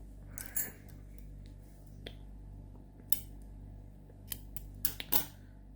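Scissors snip through yarn at the end of a crocheted border, a handful of crisp close cuts spaced out over a low steady hum, quiet and without talk.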